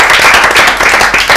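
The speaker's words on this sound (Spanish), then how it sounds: "un aplauso para ellos." Steady, dense applause from a group, many hands clapping at once, loud and close throughout.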